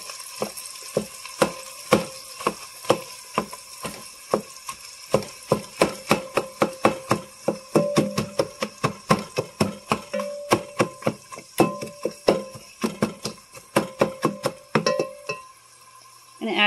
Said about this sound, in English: And then I got my masher. I'm just going to break up the beef so it cooks faster.